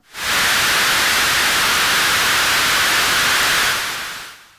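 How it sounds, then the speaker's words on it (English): A steady hiss of bright white noise from a Sherman Filterbank swells in quickly, holds evenly for a few seconds, then fades out. "If I take it to bypass effect, we're just going to get some straight up noise."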